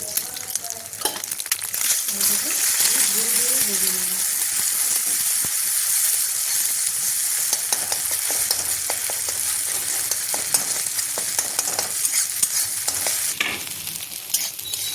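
Eggs frying in oil in a kadai for egg tarka: a loud, continuous sizzle and crackle that holds steady throughout, with a faint voice briefly underneath near the start.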